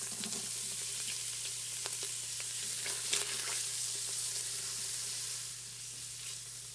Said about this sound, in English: Now you can see the coconut oil sizzling, and I'm going to place in the onions.